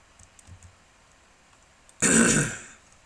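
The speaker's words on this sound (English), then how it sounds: "I'm really sorry about the coughing." One short, loud throat-clearing cough bursts out after a quiet stretch of faint clicks, close to the microphone, then fades over about a second.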